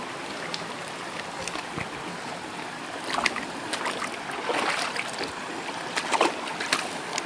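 A mountain river at Kuprasan rushing steadily over rocks, a broad continuous wash of flowing water with small splashes and trickles rising briefly, no talking.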